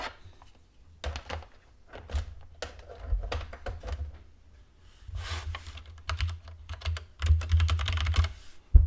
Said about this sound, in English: I'm going to switch to my quieter keyboard.